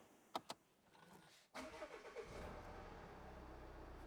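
A Volvo car's engine starts: two sharp clicks, a brief pause, then the starter cranks and the engine catches, settling into a steady idle, faint and alone.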